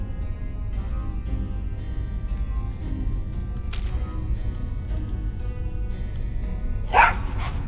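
A dog barks inside the adventure game Tales of Monkey Island, a short sharp yelp near the end standing out over a steady bed of game music and ambience.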